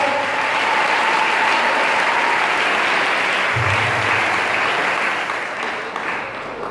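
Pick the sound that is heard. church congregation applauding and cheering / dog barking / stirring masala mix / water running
church congregation applauding and cheering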